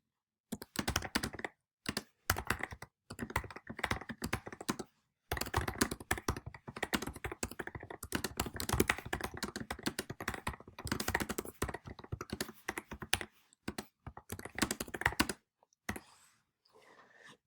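Rapid clicking of keys on a computer keyboard, typed in quick bursts separated by short pauses, close and crisp, with no speech over it.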